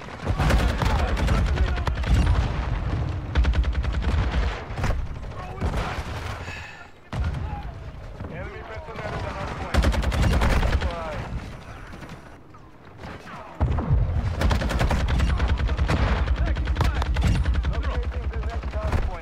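Lachmann 762 rifle fire in Call of Duty on the Shipment map, loud sustained bursts of rapid gunshots with brief lulls, mixed with other battle noise and occasional talk.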